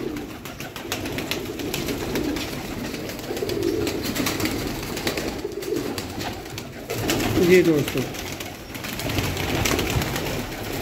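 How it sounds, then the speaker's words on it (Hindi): Pigeons cooing on a rooftop loft, soft repeated coos and rustling close by under someone talking, with a louder cooing burst partway through. "बहुत ही नायाब दोस्तों कबूतर ने हुण चढ़ उत्ते गए ने"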